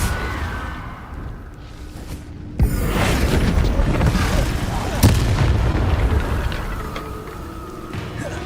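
Fiery spell explosions from Hogwarts Legacy gameplay, with booming blasts and sharp impacts over a rumbling game soundscape, two prominent bursts standing out near and loud.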